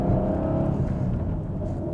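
A Subaru VB WRX with a swapped-in STI 6-speed, Cusco front and rear diffs and rally suspension pulls away. Its engine drones steadily and close throughout, with no pauses.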